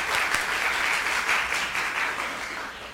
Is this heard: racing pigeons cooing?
no